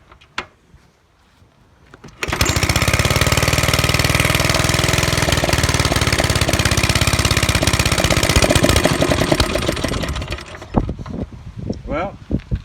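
A Pincor P-20 pull-start engine fires up after a few quiet seconds and runs loud and steady for about eight seconds, then cuts out, leaving faint sounds and a voice talking.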